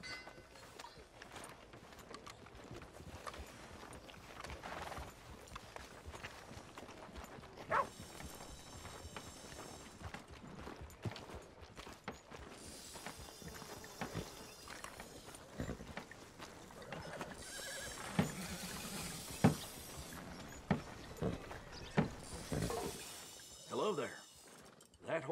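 Horse hooves clip-clopping in Red Dead Redemption 2, soft steady steps heard faintly under intermittent voices and quiet game ambience.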